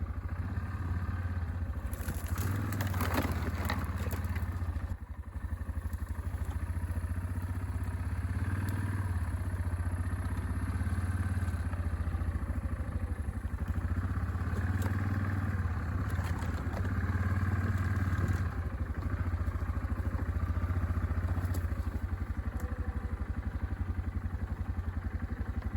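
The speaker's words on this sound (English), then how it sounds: "This is about as far as I'm going to ride the quad." A quad ATV runs steadily while being ridden along a fence line, its engine a continuous close drone with some clatter and rattling of the machine over rough ground throughout, no talking.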